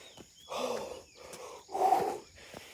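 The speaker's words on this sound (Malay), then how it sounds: "Saya punya nafas kuat" Heavy, rasping breaths close to the microphone, two loud exhalations with quieter inhales between, no talking.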